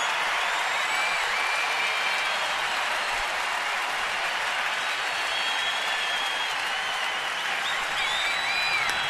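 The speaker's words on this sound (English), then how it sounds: "this crowd all of a sudden is some kind of into this game." Dense, steady roar of a baseball stadium crowd cheering through a tense moment of a Marlins at Nationals game, a loud, continuous wash of noise holding level from start to finish with faint whistles on top.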